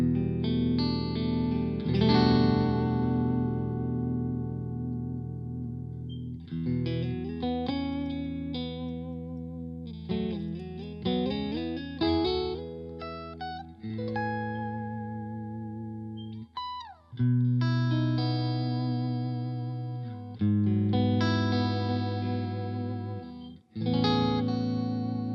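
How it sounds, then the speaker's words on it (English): Marshall Studio JCM900 amp on channel A with a split-coil guitar sound, playing sustained chords and single-note phrases with vibrato and bends, loud and clear with pauses between phrases and no talking. "let's just put on that kind of split coil sound there, that iconic one, and just let's check out this channel"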